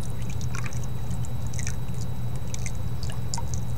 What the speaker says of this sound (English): Just slowly add your lye water to your oils